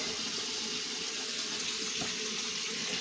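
Water pours steadily into a kitchen sink as cooked dry beans are drained, a continuous close rushing splash at even loudness throughout with no talk.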